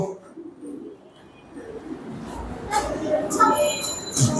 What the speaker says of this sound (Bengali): আর এই যে আমাদের নতুন এই যে ফ্যান্টেল, এই কবুতরটা দেখছো তুমি?